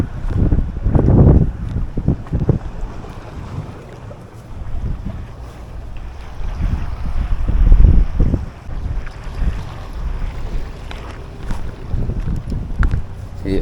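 Small fishing boat running across a cove off Jamaica, a steady low engine drone with heavy wind buffeting the microphone and occasional water slaps, fairly loud and continuous throughout.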